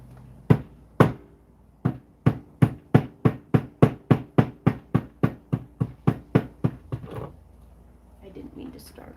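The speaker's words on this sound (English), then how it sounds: "I wonder, what if we hammer it?" About twenty sharp hammer blows strike a tabletop in a steady, fast rhythm, loud and close, with nylon jaws between the work and the table, followed by a brief moment of quiet movement.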